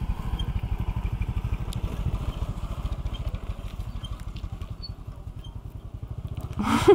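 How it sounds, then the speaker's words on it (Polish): A small scooter or motorbike engine putters past with a rapid, even pulsing chug at moderate distance, holding steady and then swelling with a brief louder burst at the end; no voices. "żeby nagrać Dominika, jak jedzie skuterką, motorkiem"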